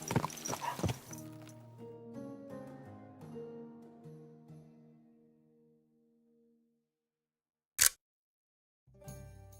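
Horse sounds in the game Kingdom Come Deliverance 2: a burst of clopping hooves at the start, then a long whinny that trails off into quiet, followed by a sharp click and a short rustle near the end.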